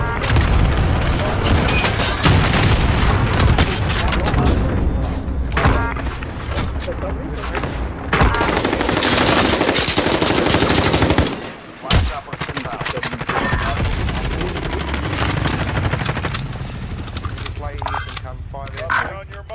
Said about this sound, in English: There's someone shooting us from the left.